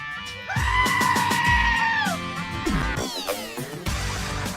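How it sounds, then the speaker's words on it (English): A goat lets out a long, loud, wavering bleat, then a shorter broken one, close and clear against a busy background. "There's the goat."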